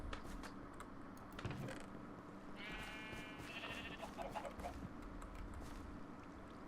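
Full-grown sheep bleat in a farming video game, a couple of clear wavering bleats in the middle, set against a steady busy game soundscape.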